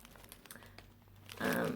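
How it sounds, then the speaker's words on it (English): A drawstring plastic bag crinkles as it is handled, starting with faint rustles and then swelling into a louder, close burst of crinkling toward the end. "It's a drawstring plastic bag, which I thought that was pretty cool."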